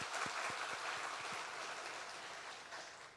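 Church congregation applauding the teachers after a summer Bible school, a fairly faint, steady patter of clapping heard from a distance that slowly fades over a few seconds.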